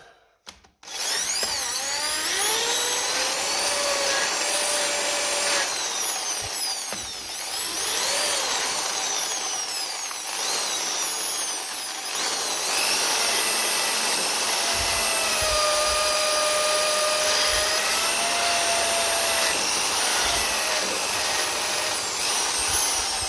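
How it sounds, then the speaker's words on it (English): An electric drill spins a wire brush against the battery earth lead of a 1955 Ferguson TEF 20 diesel tractor, a continuous high whirring grind with shifting pitch and scratchy rubbing, close and loud for over twenty seconds without voices. "we'll just give it a bit of a clean up there with the drill and the wire brush"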